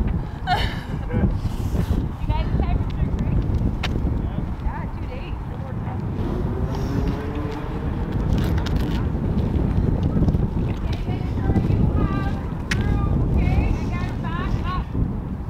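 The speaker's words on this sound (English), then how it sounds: "It's a little breezy." Gusty wind buffets the microphone at an outdoor running track, a constant roar that swells and eases throughout while people talk over it.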